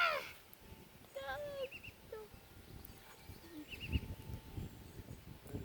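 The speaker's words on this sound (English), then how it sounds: "Sounds like the same call's coming from a bigger bird over there." Bird calls outdoors, a few short chirping notes near the start followed by fainter distant calls over a soft, rustling background.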